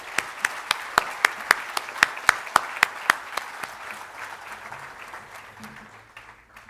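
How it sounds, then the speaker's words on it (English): Applause for Mrs. Windy at an awards ceremony, with a row of loud, evenly spaced rhythmic claps standing out over the crowd's clapping, which then fades gradually. "Please give Mrs. Windy a big round of applause"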